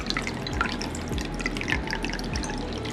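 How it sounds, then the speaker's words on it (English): Chilled margarita poured from a shaker into a salt-rimmed margarita glass, a steady close liquid trickle and dripping running continuously for the whole stretch, with no voices. "you pour a nice chill margarita into the margarita glass."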